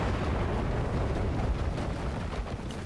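A land mine exploding in the World War II shooter game Enlisted, heard as a loud, rumbling blast with dense low roar and crackling debris sustained for a few seconds.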